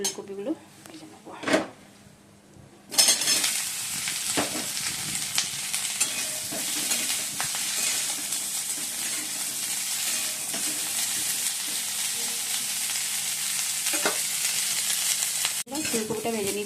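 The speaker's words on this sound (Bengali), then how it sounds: "ফুলকপিটা ভেজে নিচ্ছি" Cauliflower fries in oil in a kadai with a loud, steady sizzle that starts abruptly after a few seconds of utensil clinks, with occasional stirring clatter and someone talking at times.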